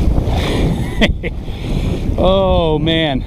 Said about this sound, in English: This wind is this strong right now